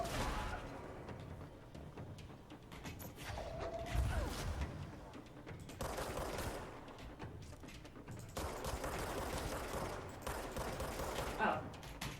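Gunfire in the video game Control: bursts of shots and crackling impacts rattle on and off at moderate loudness amid clattering mechanical noise, under a person talking.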